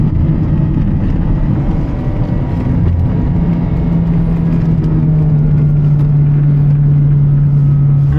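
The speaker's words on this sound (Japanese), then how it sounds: "2速でエンジンブレーキ効かしながら流してるけど面白い" A naturally aspirated car engine braking in second gear on a winding downhill mountain road at dusk, giving a steady, loud, close droning hum that holds an even pitch throughout, with no talking.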